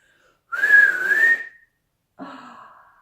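A single loud, piercing finger whistle held for about a second, followed after a pause by a shorter, softer tonal sound.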